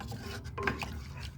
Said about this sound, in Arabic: هنفضل نقلب كده لما تتقل